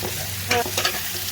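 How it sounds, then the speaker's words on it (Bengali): Amaranth stem greens stirred into onion and garlic frying in a pan, a constant close sizzle broken by two quick scraping stirs of the spatula. "শাকগুলো দিয়ে একটু মিক্স করে নেব"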